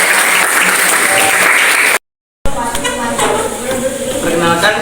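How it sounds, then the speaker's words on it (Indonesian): Students applaud in a classroom after a group discussion presentation, loud close clapping that cuts out abruptly for a moment, then resumes with more distinct individual claps. "Tepuk tangan dulu."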